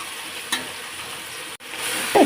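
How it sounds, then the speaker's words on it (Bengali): Onion, green chilli, bay leaf, cinnamon, cardamom and ginger-garlic paste sauté in a pan for a chana dal vegetable dish. A brief hissing sizzle is broken by a short dropout and ends in a small clatter. "এখানে পেঁয়াজ, কাঁচামরিচ, তেজপাতা, দারচিনি, এলাচ ফল আর আদা রসুনের পেস্ট দিয়ে এটা আমি ভালোভাবে কষিয়ে নেব।"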